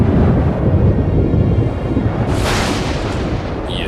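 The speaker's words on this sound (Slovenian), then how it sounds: "Pridi, preden naju ujame nevihta." Deep rumbling thunder from an approaching storm rolls loud and continuous, with a brighter crack-like burst swelling midway through.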